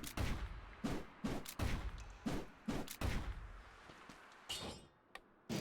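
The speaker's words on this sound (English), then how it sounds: "it's got a 3-hit combo where it ends with a gunshot" Video game melee combat with a machete and pistol combo, a rapid series of sharp impacts and blasts in quick bursts, loud and close, ending in a sparser few hits.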